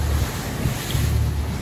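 Rough sea water churns and slaps around a moving fishing boat leaving the Berengan river mouth near Mateding, with constant wind buffeting the microphone throughout.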